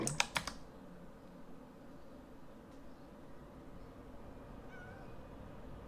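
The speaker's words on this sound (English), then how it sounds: "There's just a cat down here." A cat meows faintly in a video game, heard late over a low steady background hum. A quick burst of keyboard clicks comes just before.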